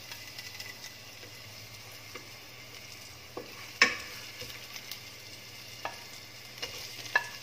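Sliced mushrooms sautéing in a pan for spaghetti aglio e olio, with a soft, steady sizzle under scattered sharp scrapes and clinks of a spoon stirring against the pan.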